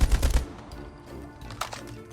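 Small gun firing in the Call of Duty video game: a loud, rapid burst of shots at the start, then quieter scattered gunfire and game sounds.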